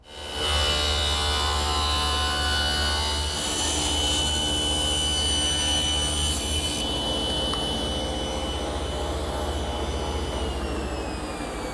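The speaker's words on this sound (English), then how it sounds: "Now I'll rip out the individual pieces at the table saw." A table saw runs with a steady, loud, high whine, ripping wood stock into individual drawer pieces for a seven-drawer chest. The blade tone shifts slightly under load and then hums on alone.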